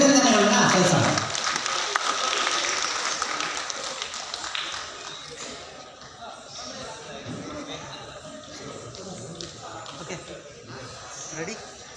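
An outdoor crowd at a folk dance world record event applauds, a loud burst at first that fades into scattered clapping and crowd chatter.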